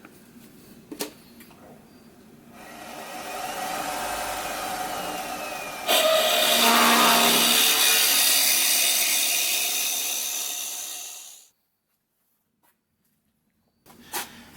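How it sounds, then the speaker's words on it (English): Wood being drilled on a lathe with the speed turned down, a steady grinding whir that swells louder midway, holds, then fades out abruptly into silence before a few faint knocks. "So I'll wind the speed down and we'll get the hole started."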